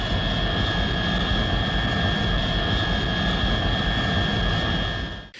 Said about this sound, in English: the jet engine is very loud on commercial airplanes.